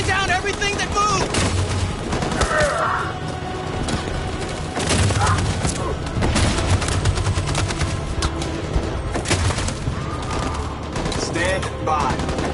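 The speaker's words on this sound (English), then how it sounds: "That machine gun is taking down everything that moves!" Sustained machine-gun fire in a PlayStation 4 war shooter, dense rapid bursts with booms and thuds throughout, loud and continuous, with shouted voices in the mix.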